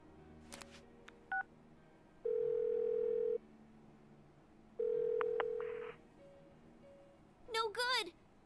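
In the video game Persona 4 Golden, a phone call dials out: synthetic button tones beep, then two long, steady ringback tones with a gap between them, faint and clean, followed by a brief burst of voice at the end.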